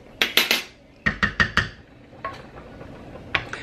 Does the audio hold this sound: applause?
no